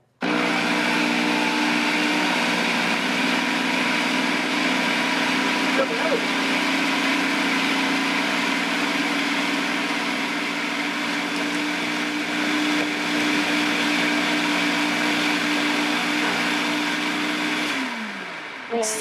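A countertop blender purees black beans for brownie batter in a steady, loud, continuous whir that holds for nearly the whole stretch before winding down and stopping near the end.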